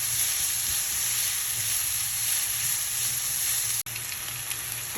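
Minced onions sauté in olive oil, a steady close sizzle with a high hiss that barely changes over a few seconds.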